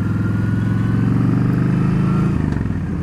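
Motorcycle engine running steadily and loud up close during a ride, with a low rumbling drone that shifts slightly near the end, no voices present.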